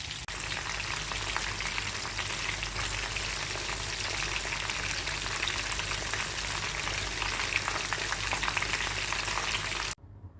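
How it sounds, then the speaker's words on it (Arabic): Breaded chicken pieces deep-frying in hot oil for a crispy Kentucky-style coating, a dense steady sizzle and crackle close by that holds at one level for about ten seconds and then cuts out abruptly. "ها هو الدجاج ديالنا كيتقلى"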